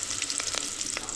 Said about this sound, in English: where they're being fried.